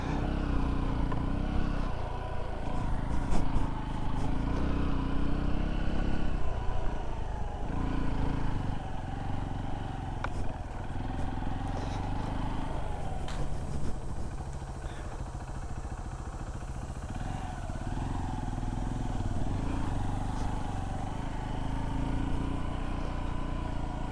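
Steady engine drone and chain clatter from a 2025 Honda XR150L dual sport motorcycle riding along a dirt trail, close and continuous, with mild rises in revs and no talking.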